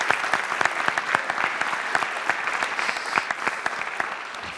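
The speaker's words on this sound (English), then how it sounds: "And I would like to welcome on stage, and please give her a warm applause, Meiltje de Groot, CEO Groningen Airport." A symposium audience at Groningen Airport applauds a speaker coming on stage, with even, continuous clapping from many hands, moderately loud and slightly distant for several seconds.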